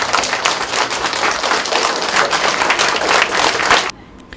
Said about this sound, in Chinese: 来接牌，好，大家鼓掌。